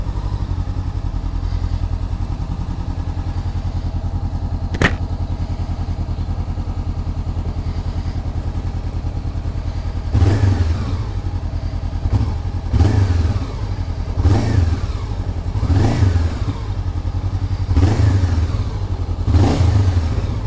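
A Honda CBR500R motorcycle engine idles steadily up close, then is revved repeatedly in a series of sharp rising-and-falling throttle blips, loud and with no voices.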